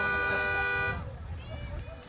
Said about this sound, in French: Je suis sûr les gens ils klaxonnent, mais dès qu'ils voient que c'est des moutons, tout de suite, ça va, ça calme.